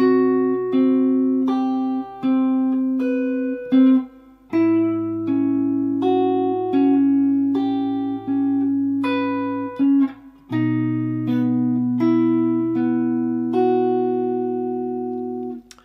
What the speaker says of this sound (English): So the whole line, nice and slowly, sounds like this